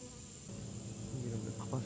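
Honeybees feeding and buzzing in a steady, soft drone close by, with a slight rise in intensity toward the end and no talking.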